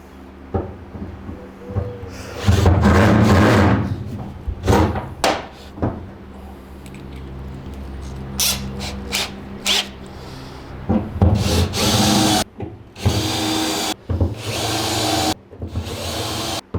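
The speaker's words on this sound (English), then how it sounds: "Now I'm gonna walk them out with this step bit to get them to the right size." Step drill bit widening holes in the metal bed of a 2006 Chevy Duramax pickup, uneven bursts of grinding and rubbing with pauses between, close and fairly loud.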